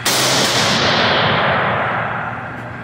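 A single loud gunshot at an outdoor shooting range, a sharp close crack followed by a long echoing roll that slowly fades.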